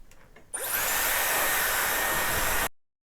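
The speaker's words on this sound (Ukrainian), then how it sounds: "Я включаю на середню температуру, на на швидкість максимальну, тут, в принципі, вона одна, і просто сушу корені." A Dyson hair styler starts up and blows at maximum speed with a steady, loud whooshing roar while drying hair roots close by, then cuts off abruptly.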